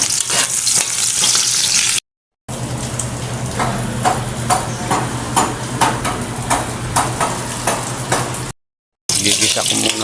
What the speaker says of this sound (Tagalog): Gigisa ko muna po yung bawang at sibuyas.